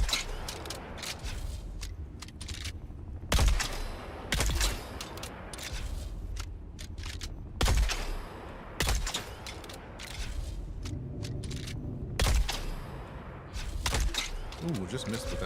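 Gunfire in the Dune: Awakening video game, sharp single shots spaced a few seconds apart, loud and close, over low rumbling background and someone talking.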